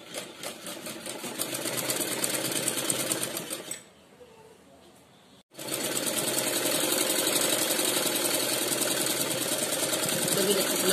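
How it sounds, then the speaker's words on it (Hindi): A sewing machine stitches down the hem of a hanky-cut frock for a three-year-old, running loud and steady for several seconds, pausing briefly, then starting up again and continuing to the end. "तो मैं इसको भी सिल लेती हूँ और ये पूरी नीचे तक सिलाई करके चली जाती हूँ।"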